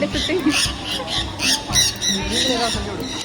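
A parrot at the Kakegawa Kachouen bird park squawks in a rapid series of shrill, loud calls close by, while people talk throughout.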